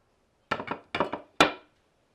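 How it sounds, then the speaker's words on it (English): A Shimano HollowTech bicycle crankset is knocked loose with a hammer or mallet, giving five sharp, close taps in three quick bursts, with short ringing decay and silence between. "you can just give it a gentle tap, either with a soft mallet or use a block of wood and a regular hammer"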